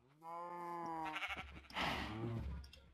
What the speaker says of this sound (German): Jetzt habe ich noch ein gelbes Schaf.